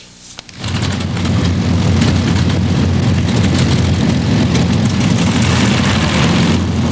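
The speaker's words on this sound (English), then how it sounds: "Dozens of World War II P-51 fighter planes filled the Central Coast skies today." Several World War II P-51 fighter planes at the Santa Maria airfield, gathered for the aircraft's golden anniversary, roar with loud, steady piston engines that swell in abruptly after a brief quiet start and hold a dense, rumbling drone.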